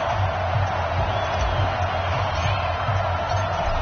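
A stadium crowd cheering steadily in an EA Sports NFL game before a New England Patriots versus New York Giants matchup, a dense, continuous roar under the game's ambience, muffled and band-limited.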